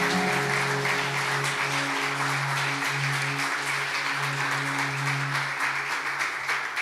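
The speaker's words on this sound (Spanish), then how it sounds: "Dale fuerte ese aplauso al Señor en el nombre de Jesús" Congregation applauding during a church service, a steady broadband wash of clapping lasting throughout, with a sustained low musical drone beneath it.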